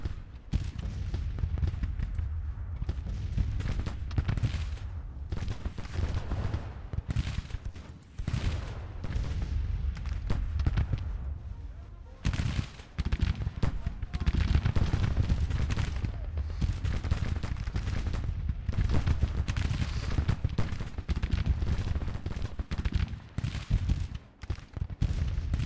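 Sustained battlefield gunfire from Grand Tactician: The Civil War during the Cold Harbor fight, dense rolling musket volleys and booming artillery that continue without break, loud and steady throughout.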